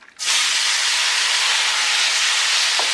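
Chicken hearts in a cumin marinade hitting a hot pot burst into a loud, sudden hiss that settles into a steady, intense sizzle lasting to the end, close and unbroken.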